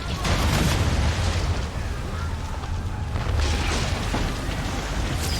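Ship cannons fire in an Assassin's Creed III naval battle, heavy booming blasts rolling one into another over a constant loud roar of sea and combat, with no pause in the din.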